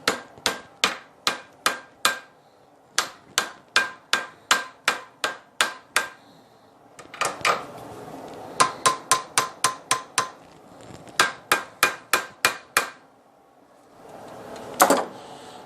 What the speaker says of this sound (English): it says close the gap with a hammer